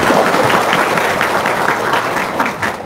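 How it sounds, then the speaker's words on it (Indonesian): Dense audience applause fills the space at a seminar or testimonial gathering, a steady wash of many hands clapping at close range with a slight fade at the end. "Wow, tepuk tangan dong."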